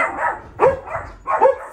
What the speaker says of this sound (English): The dogs like to bark, bark, bark, bark when there's mail.